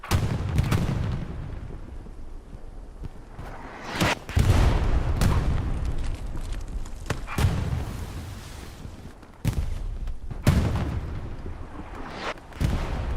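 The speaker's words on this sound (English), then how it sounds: "Explosion happens on the road. That was a AT gun, I'm assuming." Anti-tank gun fire and explosions on a road in the Hell Let Loose battle game, a series of heavy booming blasts spaced a few seconds apart over rumbling background, loud and with no talking.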